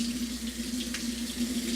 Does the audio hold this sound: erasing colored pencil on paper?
no